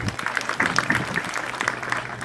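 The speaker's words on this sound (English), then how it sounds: "Can we add our guest of honor another big hand clap?" Audience clapping at a graduation ceremony for a guest of honor, a steady round of hand claps from a crowd lasting a couple of seconds, with some background voices mixed in.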